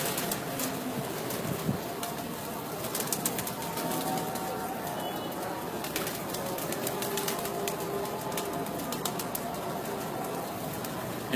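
Pigeons coo softly amid a busy outdoor background, with occasional wing flaps and scattered clicks throughout.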